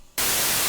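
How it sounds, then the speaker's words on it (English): Static-like white noise from a Native Instruments Massive synthesizer switches on abruptly after a brief quiet moment, then holds as a loud, flat, unbroken hiss to the end. "white noise and color"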